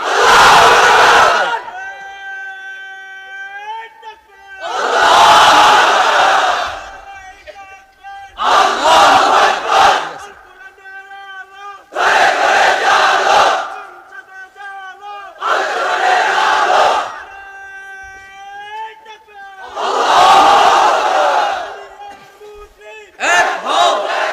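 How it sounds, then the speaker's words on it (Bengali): A large crowd of unmarried men at a religious gathering shouts the takbir in unison, with six loud, sustained chants separated by short pauses, each one full and echoing. "এবার অবিবাহিতরা দাও লিল্লাহি তাকবীর"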